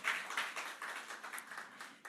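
Audience applause for a bank chief executive at the commissioning of a Zenith Bank branch in Manchester, a soft, steady patter of clapping throughout.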